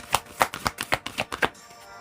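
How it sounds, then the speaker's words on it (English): A deck of tarot cards being shuffled by hand, a series of about eight crisp riffling bursts in an even rhythm, close and clear, with no talking. "Let me just shuffle this deck again real quick here"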